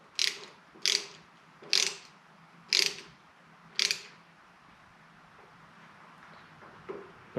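A ratchet wrench tightens bolts on the front master cylinder of a 1979 Harley-Davidson Shovelhead FLH, with aluminum parts. Five sharp, close ratcheting bursts come at roughly one-second intervals, then a quiet stretch and one faint final click.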